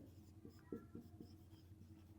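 Pen or pencil on paper working out a math solution by hand: a few soft, quick scratching strokes, faint and close in a quiet room.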